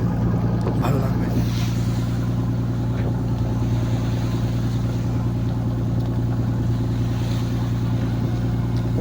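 A trawler's engine drones loud and steady with a deep, constant hum on a rough sea, its rumble unbroken throughout, with faint voices and wind noise over it.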